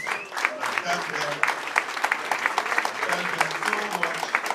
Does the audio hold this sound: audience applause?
yes